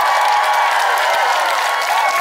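A concert audience claps and cheers for a trot singer in a steady, dense wash of applause filling the hall, with faint voices mixed into the crowd noise.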